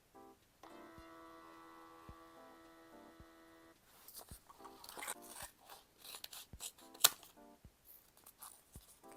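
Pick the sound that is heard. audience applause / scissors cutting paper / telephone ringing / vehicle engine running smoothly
scissors cutting paper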